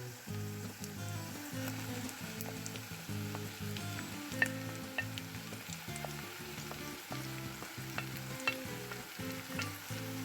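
Onions, tomatoes and green chilies fry in a pan for London street-food chicken rolls, giving a steady low sizzle with stirring clicks throughout, fairly quiet and with no talk.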